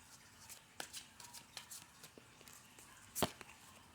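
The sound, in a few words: tarot cards being shuffled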